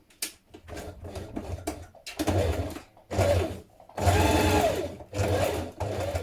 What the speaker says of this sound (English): I'm just going to stitch across here in a diagonal just to keep it secure.